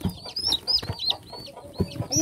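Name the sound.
chicks peeping on a farm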